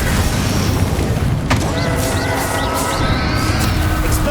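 Bombarda spell blasts in the video game Hogwarts Legacy during a boss fight, with a sharp boom and a dense, constant roar of combat effects and music throughout.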